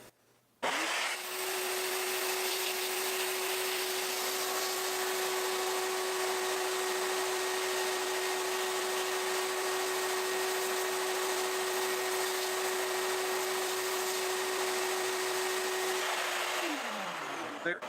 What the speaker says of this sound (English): And then we're going to vacuum it off.